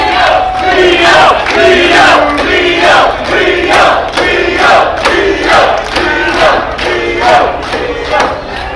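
Wrestling crowd roars in loud, rhythmic waves of chanting and cheering, with the surges repeating at a steady pace for several seconds.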